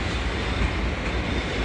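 A Poole to London Waterloo train passes through Eastleigh station with a close, steady roar of wheels and rushing air that fills the whole moment.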